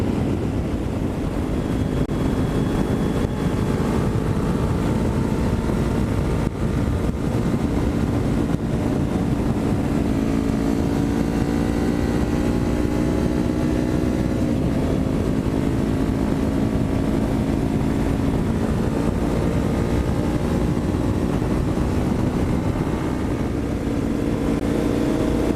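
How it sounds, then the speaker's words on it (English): Kawasaki Ninja 400 motorcycle engine droning steadily while riding on a road, with gently rising and falling pitch as it revs through gears, heavy wind rush mixed in, no speech. "I'd be just beating the piss out of Tracy's bike for no reason"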